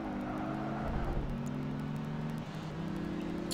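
Sports convertible engines race in Project Gotham Racing 2, a steady droning hum with shifting tones as cars run close together, continuous and moderately loud with no talk.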